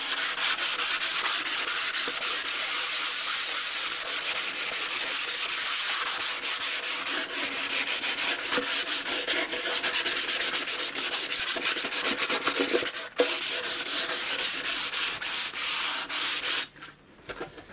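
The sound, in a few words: lightly chamfering edges of wooden Anglo-Saxon lyre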